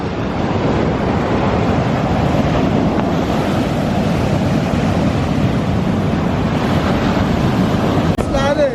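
Ocean waves washing over a sandy beach, a continuous broadband surf roar mixed with wind buffeting the microphone, steady and close throughout, with a brief whistle-like sound near the end.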